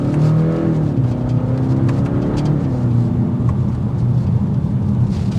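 A 2024 BMW 530i sedan engine rumbles and revs with a deep, throaty exhaust tone, steady and close, the pitch rising and easing slightly.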